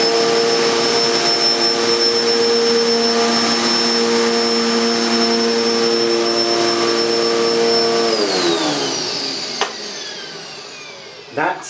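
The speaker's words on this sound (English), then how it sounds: "let's fire up this cleaner and see if it's going to make any effect on this hair" A Hoover Dustmanager bagless upright vacuum cleaner runs with a loud, steady whine, then its pitch shifts and winds down near the end, with a couple of brief knocks.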